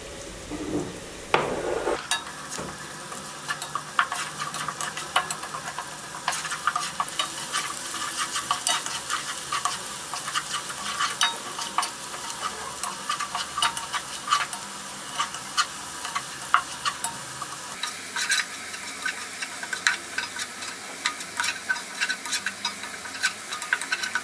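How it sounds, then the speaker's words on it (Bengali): Sliced onions for beef dum biryani sizzle quietly in oil in a pan, a soft steady crackle broken by occasional clicks and scrapes of stirring, with no talking throughout. "প্রথমে আমি বেরেস্তাটা একটু ভেজে নেব।"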